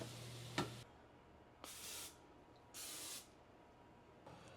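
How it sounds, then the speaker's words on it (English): Cooking spray hissed onto a pie plate for a cheeseburger pie, three short bright bursts of about half a second each, separated by pauses, close and clear, with a light tap at the start. "let's spray the pie plate."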